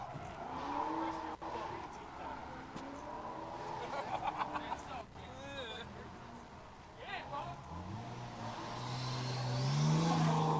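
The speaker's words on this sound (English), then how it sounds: "This is making all the cool turbo noises, Goosh." A drift car at a test-and-tune session makes turbo whooshes and flutters over a revving engine and tire squeal, close by, with the engine note climbing at the end while people talk.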